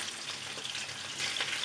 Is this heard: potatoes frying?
yes